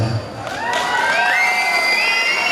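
A crowd cheers and shouts with high voices after a song performance, loud and sustained, with a little clapping mixed in.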